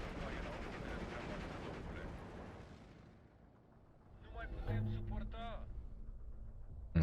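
Gunfire from the WWII strategy game Steel Division 2 on the Tiraspol campaign map: a dense, rumbling roar of battle fades, then sharp bursts of shots return, with game sound effects layered over it.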